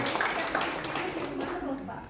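A church congregation claps hands together in praise during a service, a soft, fairly distant wash of clapping that runs steadily beneath voices.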